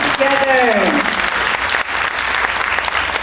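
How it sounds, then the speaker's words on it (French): Loud, dense audience applause from a crowd, steady clapping throughout, briefly overlapping a short whistle-like tone at the start. "Je vous demande de l'applaudir encore une fois pour nous, s'il vous plaît."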